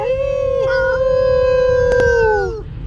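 A single long howl, like a dog or wolf, rises into a steady clear tone, wavers briefly and then fades out, loud and close over a low rumbling background.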